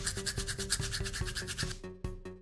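Teeth brushed with two toothbrushes joined by a rubber band, a loud close rhythmic scrubbing of quick regular back-and-forth strokes that turns to sharper, more separated strokes toward the end.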